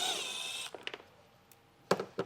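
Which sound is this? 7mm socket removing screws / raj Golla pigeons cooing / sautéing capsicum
7mm socket removing screws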